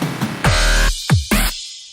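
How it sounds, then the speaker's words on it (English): Bit-crushed toms from a Native Instruments drum sampler, a few gritty, distorted hits in a quick fill, one after another, close and fairly loud with no talk. "these are just toms from a drum sampler by Native Instruments that I put a bit crusher on"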